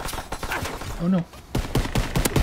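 Rapid bursts of gunfire in the multiplayer video game Call of Duty: WWII, loud and close, rattling in uneven clusters with a brief voice in the middle.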